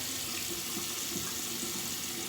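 Tap water runs steadily as razors are rinsed under it, a continuous close splashing hiss from a faucet with no voices over it.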